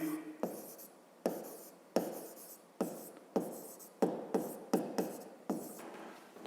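A pen scratches across paper as a math problem statement is written down, a series of about ten short strokes in irregular rhythm, quiet and close with no talk.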